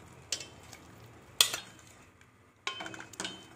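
Boiled karunai kizhangu (yam) pieces drop into simmering tamarind gravy in a pot, with three separate bursts of clattering and stirring and quiet pauses between them.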